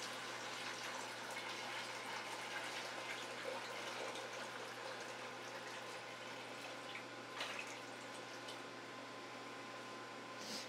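Water poured from one container into another while handling live coral for a tank, a steady soft splashing trickle running continuously, fairly faint and close.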